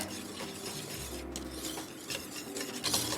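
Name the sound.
whisking coconut milk powder in a bowl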